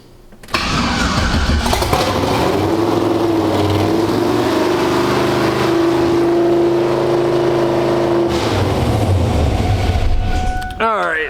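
A car engine with a newly swapped Holley setup and straight headers fires up and runs loud and raw, holding a high, droning rev for several seconds before dropping off, with no talking over it.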